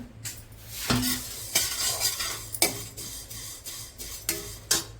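Vermicelli (sevian) being stirred and roasted in a pan, with repeated scraping strokes of a utensil against the metal over a soft dry sizzle, several distinct stirs at an irregular pace, close and clear.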